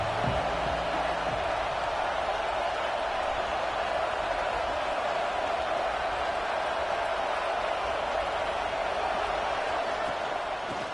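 A large stadium crowd at a college football game between Notre Dame and Alabama fills the air with a steady, broad roar of cheering, constant and moderately loud throughout without clear peaks.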